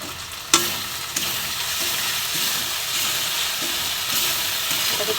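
Vegetables and spices sauté loudly in a pan for a vegetarian bottle gourd greens dish. The hiss is dense and unbroken, with regular spatula strokes thumping through it after an opening clank.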